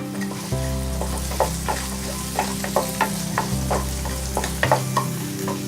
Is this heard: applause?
no